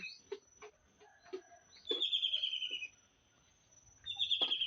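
Birds chirp and sing in quiet countryside in the morning, with short calls and a couple of longer bright whistled phrases, fairly close and clear.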